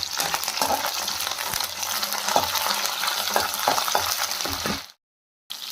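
Onions, green chillies and curry leaves fry with a busy sizzle in a pan while a spoon stirs them, with scraping clinks throughout, ending in a sudden brief silence.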